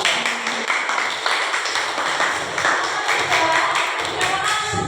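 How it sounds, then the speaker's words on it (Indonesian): A classroom of students applauds, with dense, lively clapping that carries on steadily from start to finish, close and fairly loud, mixed with a few taps and thumps. "Beri tepuk tangan untuk Bapak"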